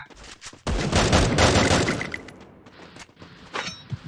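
Rapid video-game gunfire bursts out loud and close, a dense volley running for about two seconds before tapering into scattered shots and a few late cracks.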